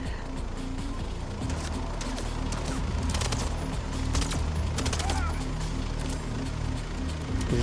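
Enemies firing back during a Mindseye gunfight, with sharp bursts of gunfire popping over a dense game soundscape of engine rumble and clatter, moderately loud and fairly close, while someone talks over it.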